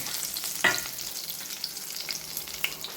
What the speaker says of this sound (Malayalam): ചൂടായി നമുക്ക് കുറച്ച് കരിവേപ്പില ഇട്ട് കൊടുക്കാം ആദ്യം. എന്നിട്ട് അതിൻ്റെ പുറത്ത് മീൻ നിരത്തി കൊടുക്കാം.